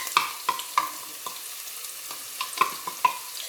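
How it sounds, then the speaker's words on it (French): Shallots frying in hot oil, a faint sizzle beneath a series of sharp clinks and scrapes from stirring, irregularly spaced and close. "Une fois notre huile est chaud, on va mettre dedans."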